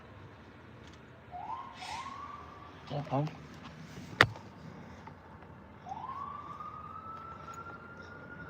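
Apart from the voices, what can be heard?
ambulance siren passing on street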